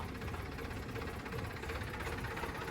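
A tractor engine rumbles in a village cultural procession, a constant low drone that stays close and even throughout, with no voices over it.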